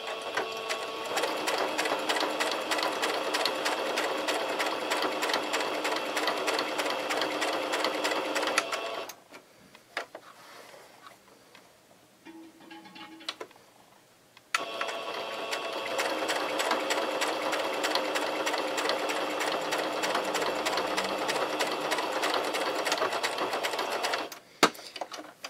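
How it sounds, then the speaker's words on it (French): A sewing machine stitching patchwork fabric coasters runs in two long steady bursts of rapid, even mechanical whirring. A quiet pause falls between them, filled with faint handling noises, and the sound is close and alone. "Quelques points avant, quelques points arrière pour aller au bord."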